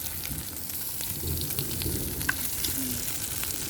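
Fatty pork belly sizzles in plenty of hot oil on a Thai mookata grill pan, a dense, steady crackle and spatter at close range with occasional louder pops and no speech.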